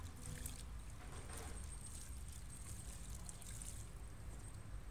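Water poured and trickling steadily into a basin while laundry is hand-washed with liquid soap, a continuous soft splashing flow with no talk.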